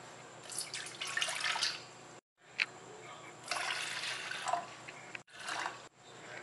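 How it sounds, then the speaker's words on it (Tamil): Water is poured into a bowl of tamarind in a home kitchen, two bursts of splashing trickle with a brief silent gap between them, fairly faint and close. "ஒரு 3 டம்ளர் தண்ணி ஊத்தி ஒரு 5 நிமிஷம் ஊற வச்சிருங்க"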